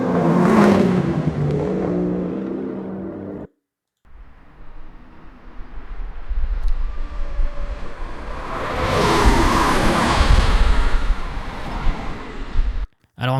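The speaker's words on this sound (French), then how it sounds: "Donc une voiture de sport qui passe à côté à toute vitesse." A synthetic sports car passing at full speed: a loud engine burst at the start, a brief silence, then a second pass building to a roaring peak before cutting off abruptly.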